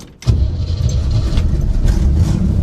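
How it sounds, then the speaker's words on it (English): A Chevy Nova engine cranks and catches after a short silence, then settles into a loud, steady idle close by, low and rumbling, with no voices. "really can't argue with the startup on this bad boy"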